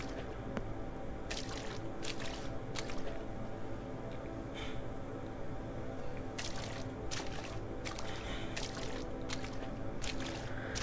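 Sloshing, dripping water in the horror game Coma: Mortuary 2, soft wet splashes and squishy movements recurring over a constant low ambient drone, fairly close.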